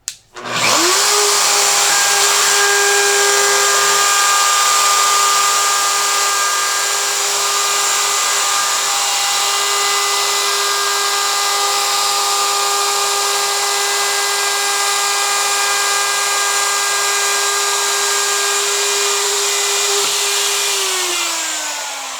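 A handheld wood router fitted with an offset base cuts a groove in wood: a loud, steady high motor whine with a bright harmonic tone runs unbroken for about twenty seconds, spinning up at the start and winding down at the end, with no talk.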